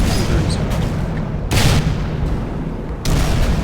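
Two heavy booming tank cannon shots in World of Tanks, fired from a Centurion about a second and a half apart, each a loud sharp blast over a continuous rumbling engine bed.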